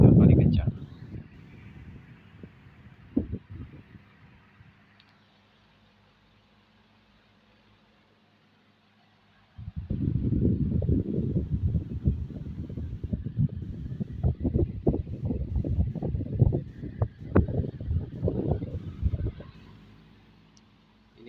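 After a quiet stretch, rushing air from a Miyako electric stand fan at its top setting, speed 3, roars steadily and roughly, buffeting the microphone up close.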